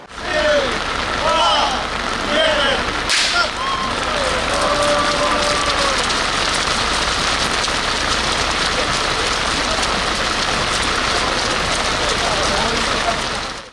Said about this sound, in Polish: deszcz leje nieustannie, nie przestaje